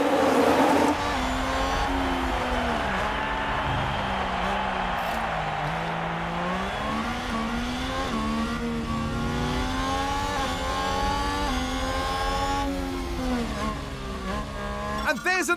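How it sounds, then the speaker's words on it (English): F1 cars launching off the grid in F1 Manager 2022, 1991/1997 Tyrrell race: a dense pack of high-revving engines climbing and shifting through gears together, sustained and loud, with commentary talking over them. "it's lights out and away we go"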